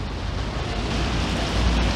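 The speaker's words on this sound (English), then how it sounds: "it's raining pretty hard now" Heavy rain during a big thunderstorm in Cuenca, Ecuador pours down as a dense, steady roar heard from shelter in a small shop, loud and unbroken throughout.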